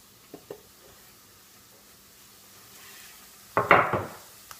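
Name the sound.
vegetables sizzling in hot oil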